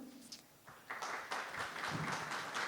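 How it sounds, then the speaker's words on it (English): Applause for a speaker at a live conference event in Dublin, beginning faintly and swelling into steady clapping from an audience, with some voices mixed in. "please, warm applause for Mario"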